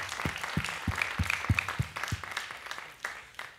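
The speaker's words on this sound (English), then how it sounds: "We are applauding." Audience applauding after a talk at a UC Davis summit, a handful of distinct claps in a loose rhythm over a thin background of lighter clapping, close and fairly clear.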